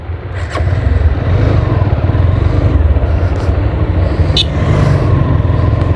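A motorcycle carrying sugar passes along a village road near the India–Bangladesh border, its engine droning loud and close, rising in after a quiet start and holding a steady rumble.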